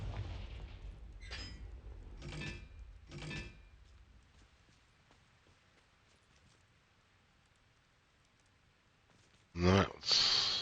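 A Confringo blasting spell goes off in Hogwarts Legacy, a sudden loud, bright burst near the end that follows a quiet stretch with a few earlier soft whooshes.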